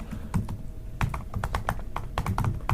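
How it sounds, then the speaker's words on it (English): Someone types a password on a computer keyboard, a quick irregular patter of close, crisp key clicks over a faint room hum. "I'm going to type in my password here"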